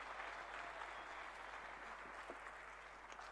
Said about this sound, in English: Let's give him a round of applause as he comes on stage.